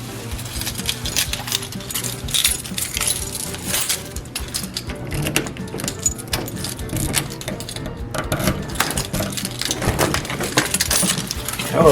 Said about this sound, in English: I have keys or something in my pocket.